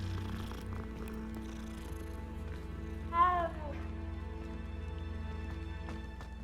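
Cat in the Hogwarts Legacy video game, a soft continuous purr under game ambience with a single short rising-falling meow in the middle, fairly quiet; no talk.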